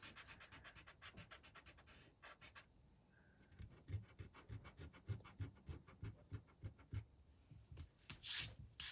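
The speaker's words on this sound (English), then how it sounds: "And then I'm gonna rub off anything that I feel is excess." Soft, steady rubbing and scratching of excess paint being wiped off a watermelon painting, faint and close, continuing in uneven strokes without speech.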